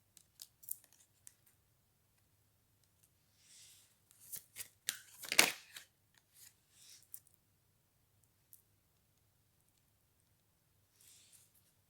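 A deck of playing cards is shuffled in short bursts, faint riffles and flicks scattered across a quiet room, with one louder, sharper shuffle near the middle.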